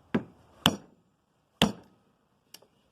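A hammer taps a pin out of a piece of scrap metal: three sharp metallic knocks close up, spaced irregularly, then a fainter light double tap, with quiet gaps between.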